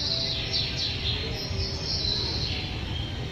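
High bird chirps and tweets ring out at a robotic birds exhibition in Karimnagar, layered over a dense steady crowd and fairground din, continuous and moderately loud.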